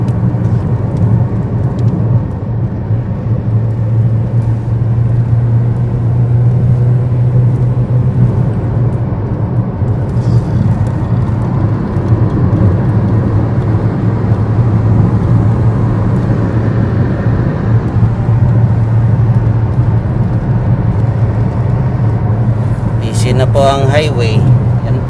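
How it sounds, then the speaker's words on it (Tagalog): Highway traffic from inside a moving vehicle on the road toward Jeddah: a steady low engine rumble with cars passing nearby, and people talking over it throughout. "Traffic, traffic. Marami na pong sasakyan."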